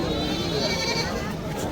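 Goats bleat at a busy outdoor goat market, their calls wavering over a dense crowd hubbub with people talking throughout.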